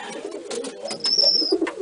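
A pigeon's soft cooing near the end of a short stretch of coop noise, with a faint thin whistle-like tone alongside; close and quiet.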